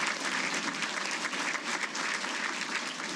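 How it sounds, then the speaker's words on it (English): Ceremony audience at a Hall of Fame event giving steady, even applause for the Gaskell entourage, a continuous clatter of many hands clapping throughout. "give the Gaskell entourage a round of applause."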